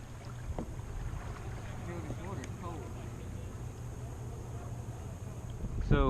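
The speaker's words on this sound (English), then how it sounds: "I'm just paddling" Paddle strokes from a Viking Profish Reload kayak moving through water with the motor off, soft splashes over steady wind noise, with voices talking and a louder splash near the end.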